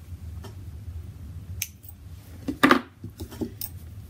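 Sharp metallic snips of jewelry wire being cut with cutters beside dichroic glass pieces, one clear close click near the middle followed by a few lighter ticks and handling sounds in a quiet room.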